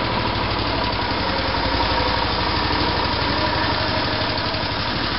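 Off-road lawn mower engine idling steadily after a spring tune-up, a close, even, rapid chugging with a buzzing high end and no voices.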